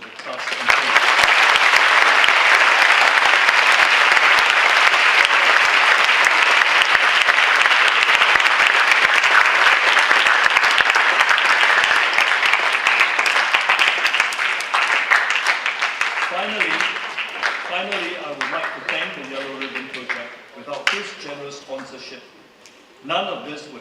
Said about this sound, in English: Let us all give a round of applause to the class and students.